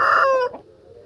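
A chicken gives a single loud, drawn-out call up close, lasting about half a second before it falls quiet.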